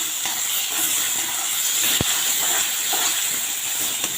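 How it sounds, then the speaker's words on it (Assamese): Tomatoes frying for a fish curry, a soft steady hiss close by with one brief click partway through and no talking. "যেতিয়ালৈকে বিলাহীখিনি গুৰি হৈ নাযায় তেতিয়ালৈকে ইয়াক ভালদৰে ভাজি ল'ব লাগিব।"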